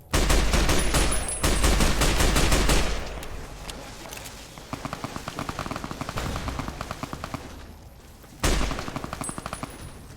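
Enemy gunfire in Fallout: New Vegas, loud bursts of rapid automatic fire in the opening seconds, then fainter repeated shots crackling at a steady pace before another loud burst near the end.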